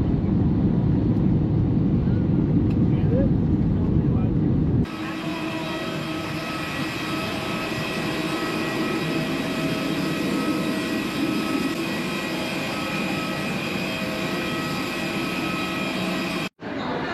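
Loud, steady cabin roar of an airliner landing at night in Thailand after a flight from Kolkata, a broad engine and airflow rumble that drops in level partway through and continues with a brief cutout near the end.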